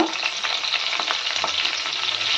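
Mustard seeds, green chili, curry leaves and asafoetida sizzle in hot oil for an alu vadi tempering, a continuous close hiss with faint crackles throughout.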